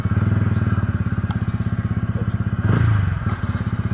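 TVS Ronin 225 motorcycle from 2023, its engine idling with a rapid steady thumping pulse close by, with a brief clatter partway through.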